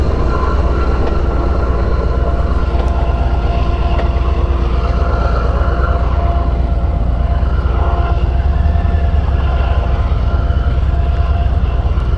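Freight train rumbling past with a pusher locomotive at the rear, a loud, steady low roar and clatter of rail wagons that fills the whole stretch without a break.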